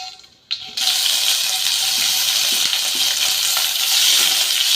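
Chopped onion and green chillies land in hot oil for sambar. After a quiet moment a loud, steady bubbling sizzle rises and stays close, with a few faint knocks beneath it.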